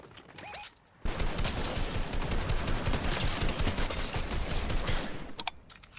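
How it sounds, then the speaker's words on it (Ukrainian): Rapid long-range gunfire from a weapon in Fortnite Reload, a dense, loud burst of shots running steadily for about four and a half seconds after a brief quiet gap, then cutting off. "Класно стріляє на дальню дистанцію ця пушка"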